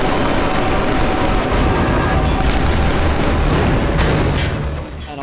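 Sustained gunfire in the shooter Killzone 3 during the Pyrrhus evacuation mission, a dense, loud, continuous barrage of shots and booms filling the whole stretch before easing slightly at the end.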